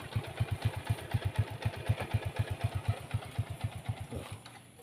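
A motorcycle engine idles close by in a rural Sundanese village in Jampang Kulon, Sukabumi, its steady low pulsing thump rhythmic and even, fading slightly at the end.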